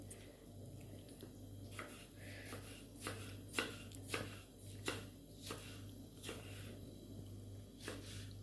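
Sharp, irregular knocks of a knife chopping on a wooden board, spaced unevenly, over a steady low hum in a quiet kitchen.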